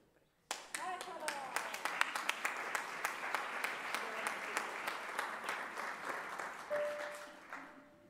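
A large audience at the 100th Arena di Verona Opera Festival 2023 presentation breaks into steady applause, with loud, dense clapping beginning abruptly and continuing throughout, and a faint voice and tone near the end.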